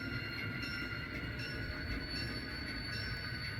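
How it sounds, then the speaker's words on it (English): A freight train backs up to couple onto grain hoppers in an East St. Louis rail yard, producing a steady low rumble with faint high wheel squeal, distant and continuous, with no talk. "the train is backing up and picking up the grain hoppers now"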